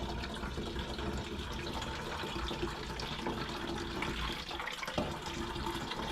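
Water pours steadily from a watering can into a plant humidifier, a continuous close splashing and trickling fill with a faint thud near the end and no speech.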